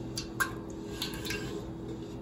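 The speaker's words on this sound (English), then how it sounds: "I'm breaking it up with a spoon" A spoon breaks up coagulated milk curds for Sicilian tuma cheese, making soft wet squishes and a few light taps against the pot, close and quiet.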